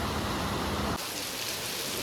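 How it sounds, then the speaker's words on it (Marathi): Dense, steady rain pours down in a continuous roar, loud and close, easing slightly partway through. "फुल पाऊस पावसात पूर्ण सगळीकडे पाणीच पाणी झालं आहे"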